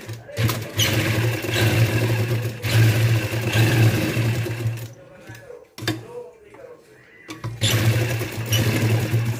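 A sewing machine stitches a baby's night suit, whirring in long steady runs broken by short pauses and a couple of quick restarts, close and clear, with someone talking over it at times.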